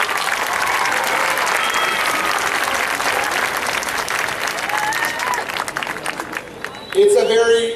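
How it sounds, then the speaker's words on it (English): Sustained audience applause for the singers at a 2013 school event, a dense wash of clapping that fills the room and fades toward the end as a voice starts speaking. "Another round of applause,"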